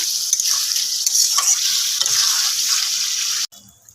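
A potato and pointed gourd curry with prawns bubbling and hissing in a pan after water is added, a bright steady sizzle with soft stirring scrapes, close and fairly loud, cutting off abruptly near the end.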